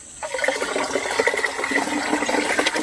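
Bamboo shoot water pours into a watering can, a steady splashing and gurgling stream that starts abruptly and continues close and loud.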